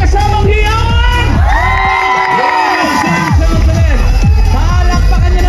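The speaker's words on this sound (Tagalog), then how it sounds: "Hindi siya lalabas pag walang nakakadinig na palakpak na may kasamang hiyawan!" A large crowd at a packed public event cheers, whoops and shouts loudly, with high children's shrieks and rising and falling yells over steady clapping, close and continuous throughout.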